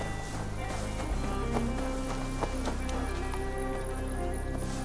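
Horse clip-clopping at a steady gallop in the video game Assassin's Creed Valhalla, rhythmic hoofbeats over game ambience, with a brief voice in the background.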